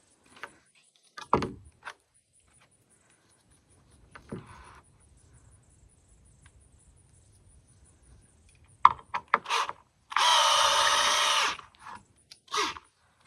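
A power drill drives a screw into a wooden board while building horse fencing outdoors, preceded by scattered knocks and clatter, then one steady whirring burst of about two seconds, close and loud, followed by a few more knocks.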